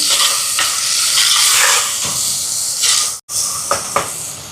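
Tomatoes and onions sautéing in a pan for a crab curry, a loud, steady sizzle with scraping stirs and a brief pause partway through.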